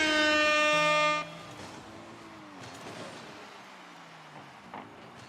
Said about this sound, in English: with that air horn